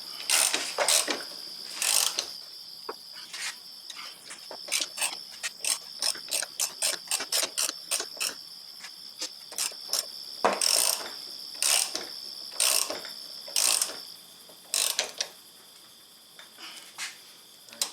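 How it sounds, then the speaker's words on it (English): A hand ratchet with socket presses a wheel bearing onto the front hub of an Audi A8 D4, giving rapid clicking bursts in a steady rhythm, close and distinct, with brief pauses between strokes and no talking. "So I'm just going to use a regular socket and ratchet as opposed to an impact gun."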